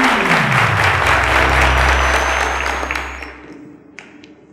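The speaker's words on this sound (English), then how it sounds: "A round of applause to them, ladies and gentlemen" Studio audience at a televised quiz show applauds departing contestants, a dense, loud wash of clapping over a low music bed that swells and then fades away toward the end.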